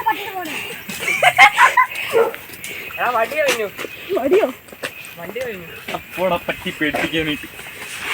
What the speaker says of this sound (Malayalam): ഞാൻ കേട്ട പട്ടി ഇതേ വരുന്നു